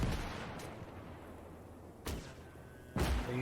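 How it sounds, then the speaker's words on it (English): Enemy gun firing in the Gates of Hell World War II game, three distant heavy shots spaced about a second apart over a quiet low battlefield rumble. "So that's what's shooting at me. And it's a gun."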